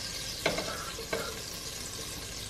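Twenty grams of butter melts and sizzles in a pan while being sautéed, a soft steady fizz broken by two sharp utensil taps, with no talking.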